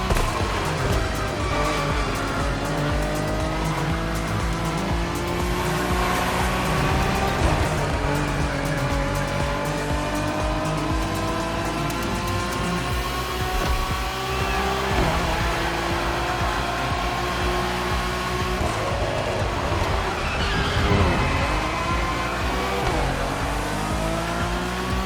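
Acura NSX GT3 race cars roar in The Crew Motorfest racing game, a loud continuous engine note with rising and falling revs and shifting pitch, alone without talk.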